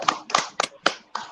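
Applause at a blockchain keynote talk, heard as about five separate sharp claps spaced evenly, sounding like only a person or two clapping rather than a full audience.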